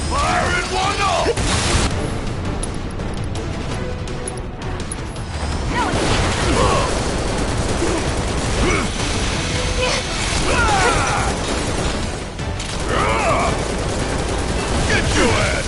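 Gunfire in Final Fantasy VII Remake on hard mode, a busy battle with repeated shots, bursts and mechanical clanks under continuous combat noise, while characters shout and talk over the fighting.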